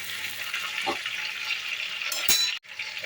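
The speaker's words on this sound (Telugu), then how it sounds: "ఆయిల్ వేడైన తర్వాత ముందుగా నింపి పెట్టుకున్న వంకాయలను ఇందులో వేసుకోవాలి" Stuffed brinjals frying in hot oil in a pan: a steady close sizzle throughout, with a couple of brief clinks and stirring scrapes.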